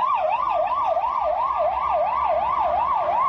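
A police car siren wails during a pursuit of a drunk-driving suspect, its rising and falling tone looping steadily and loudly over road noise, with no voices.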